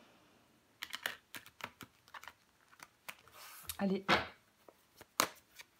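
Tarot cards are shuffled, laid down and turned over on a table in a series of close, crisp taps and slides, with a brief spoken word among them.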